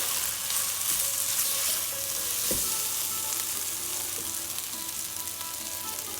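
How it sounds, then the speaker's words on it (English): Fennel powder and garam masala fry in a pan for Kashmiri-style black turtle bean daal, giving a steady, close hiss and sizzle with an occasional soft stir or clink and no talk. "Just going to fry all this nicely."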